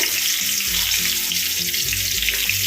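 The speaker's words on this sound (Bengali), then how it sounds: "গোটা গরম মশলা দিয়ে দেবো, তারপর তেজপাতা দিয়ে দেবো, শুকনো লঙ্কা জিরে ফোড়ন দিয়ে দেবো" Whole spices, bay leaf, dried chilli and cumin sizzling in hot oil in a kadai, producing a dense, steady crackling hiss that stays loud and close throughout.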